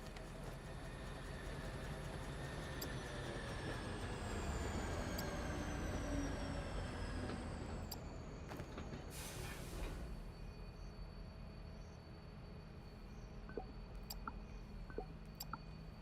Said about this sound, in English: This should be my glass train.